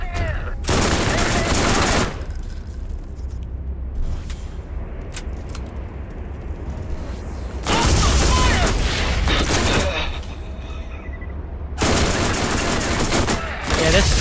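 An SMG in Borderlands fires in three long automatic bursts separated by brief pauses, loud and dense, with quieter scattered shots and game sounds between the volleys.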